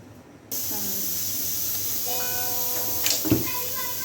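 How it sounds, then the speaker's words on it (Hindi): A sharp, steady hiss of steam escaping from a pressure cooker cooking spinach and mutton starts abruptly and continues loudly, with a whistle-like tone rising over it and a brief clatter near the end. "इसको बंद करके कुकर चलाते हैं"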